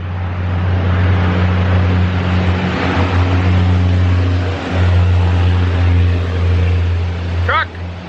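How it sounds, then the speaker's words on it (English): A truck passing near a farm, a loud continuous engine drone and road rumble that swells and fades, with a voice briefly audible underneath. "Truck!"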